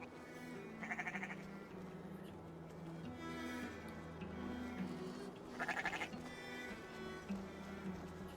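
Two quiet sheep bleats in Assassin's Creed Valhalla stand out a few seconds apart over a low, steady background drone.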